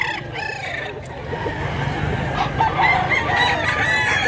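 Roosters and chickens call at a market in Mantalungon, Cebu, with crowing and clucking overlapping in a busy, loud mix of nearby fowl.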